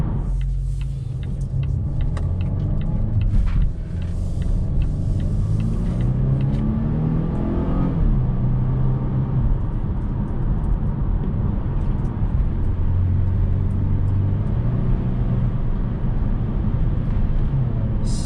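A 2021 Volvo V60 luxury station wagon on a test drive, heard from inside the cabin: a steady engine and road rumble with one rising acceleration sweep partway through.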